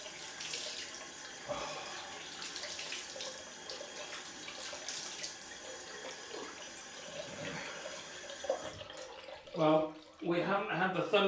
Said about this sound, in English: I always look forward to a nice cold splash.